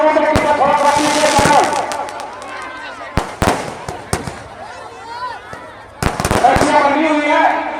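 Fireworks crackle and burst at a Ravana effigy burning during a Dussehra gathering in Bond village, Dadri district. Repeated sharp pops come in dense clusters over crowd noise and raised voices talking.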